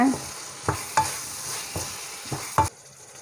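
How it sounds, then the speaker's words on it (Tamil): Fish for Kerala-style fish pollichathu sizzles steadily in a pan while a utensil scrapes and stirs it about five times in uneven strokes, close by, with no talking. "உப்பு சேர்த்துட்டு ஒரு தடவை நல்லா கலந்து விட்டுருங்க"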